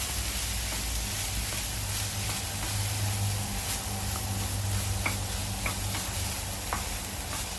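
Ghee rice being stirred into vegetable masala in a pan for a vegetable pulao, with soft scraping and scattered light ticks over a faint steady sizzle, close and fairly quiet.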